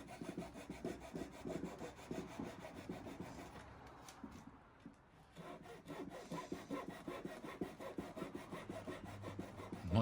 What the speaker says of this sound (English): I'm just cutting the excess off the plugs here.